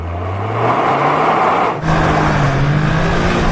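A Toyota GR Yaris, an automatic, launches hard off the line in a drag race, engine revving loud and close, a quick gear change, then pulling strongly onward as the pitch climbs.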